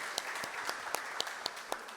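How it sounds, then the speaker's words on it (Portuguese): A large audience applauding at a sales seminar for a guest welcomed onto the stage, steady dense clapping at moderate loudness with a few sharper individual claps standing out. "uma salva de palmas para o Humberto da House Design."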